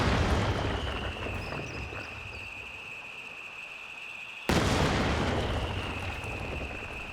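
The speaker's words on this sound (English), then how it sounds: "we're taking a look at the revised delayed fuse barrage here on the 120mm mortar" Delayed-fuse barrage from a 120mm mortar striking a bunker in a video game: a sustained rumbling roar of explosions, then a sudden loud burst partway through, with no speech.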